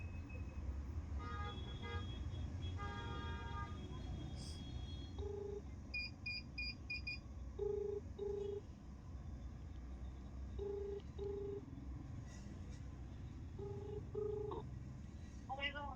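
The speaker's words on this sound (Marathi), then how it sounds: "चला, सेकंड विनर आहेत अश्विनी लिंगायत, त्यांना फोन लावूयात." A phone call is dialed, with short electronic beeps and tones sounding in a repeating pattern over steady background hum and a low murmur of voices.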